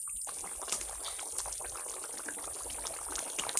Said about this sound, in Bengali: আচ্ছা হয়ে গেছে জল ঢেলে দিলাম